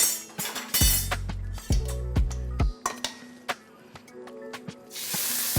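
Meat dropped into a hot pan with olive oil for a beef and spinach lasagna, a loud close hiss and spitting sizzle with clinks of metal and repeated low clunks of the pan, no speech over it.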